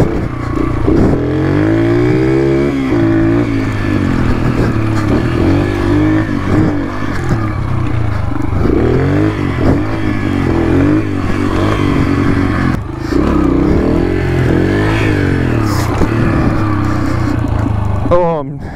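A Yamaha TTR 125 dirt bike ridden fast, its small engine buzzing and revving up and down continuously with loud close wind and rattle, while a rider talks over it.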